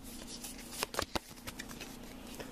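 A deck of playing cards shuffled quickly by hand during a tabletop card game, giving a few sharp riffling bursts near the middle over a low steady hum, close and brief.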